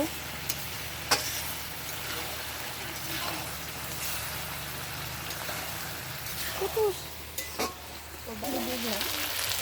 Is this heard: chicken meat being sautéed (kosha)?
yes